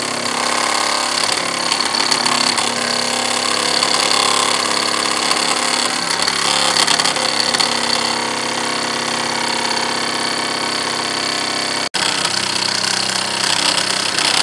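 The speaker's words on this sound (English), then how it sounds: "you're just hearing a lot of vibration off it" A Wilesco D6 model steam engine chugs away on a workbench, its rapid, rattling vibration steady and close for the whole stretch, with a brief sharp click near the end.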